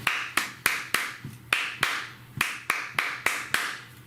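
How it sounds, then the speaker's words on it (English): Sharp hand claps land in a steady rhythm, about a dozen over four seconds, crisp and close with short decays, paced alongside a faint metronome tick. "I'm going to count and clap it with the metronome"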